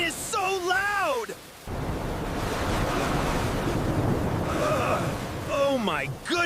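Loud rushing water and crashing surf roar steadily, with a cartoonish voice yelling over it at the start and end.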